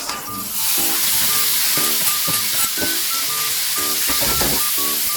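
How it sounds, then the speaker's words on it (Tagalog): Tomatoes hit hot chicken oil in a pan for a mung bean stew, producing a loud, close, steady sizzle with scraping stir strokes throughout. "Pagkatapos, ilagay na natin ang kamatis."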